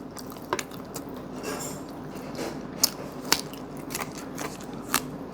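Close, soft crunches and mouth sounds come from someone biting and chewing khanom pia, a Thai pastry, with a few sharper crisp snaps scattered through quiet chewing.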